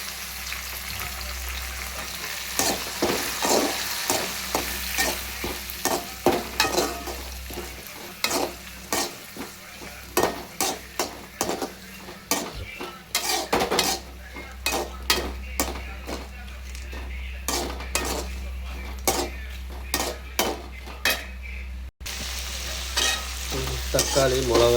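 Chillies and tomatoes being stir-fried in a pan, a steady sizzle broken by repeated sharp scrapes and clicks of a spoon against the pan, close and loud, with no talk.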